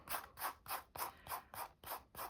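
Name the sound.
flaking off a still slightly wet dried craft piece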